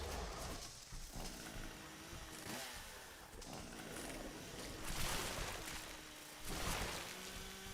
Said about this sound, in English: Yeah, taste my chainsaw.